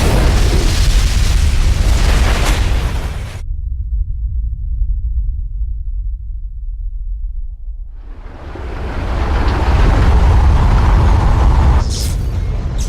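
A ship's hull ruptures in a huge explosion in the video game Vanquish: a loud roaring blast, a sudden drop to a low hum, then a swelling rumble and a sharp burst near the end.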